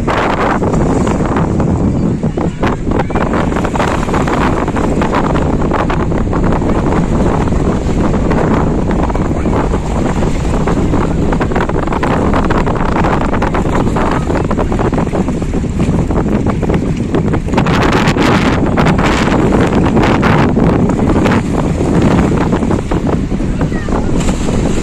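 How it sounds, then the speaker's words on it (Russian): Strong wind on a beach in Croatia buffets the microphone in loud, continuous rumbling gusts over a wash of sea and surf, steady for the full length. "У нас сегодня такой ветер, я не знаю, как вам пишется звук, но, наверное, не очень"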